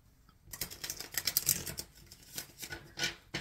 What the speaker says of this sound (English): Spirit, I am shuffling for the Virgo collective for October.